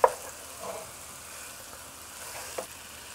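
Okra frying in a pan with chili for Persian okra stew, a steady close sizzle with a few faint stirring clicks and no talking.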